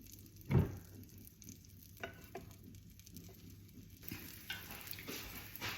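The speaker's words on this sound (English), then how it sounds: "Heat your pan, a little bit butter, and on the slow flame, just cook your pizza now." Pizza cooking in butter in a pan over a low flame, a quiet steady sizzle with a few soft clatters and a louder knock near the start.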